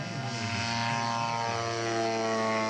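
A scale model aircraft with S61 engines turning three-bladed props makes a flyby over turf, giving a steady, droning propeller hum with strong harmonic tones at moderate loudness.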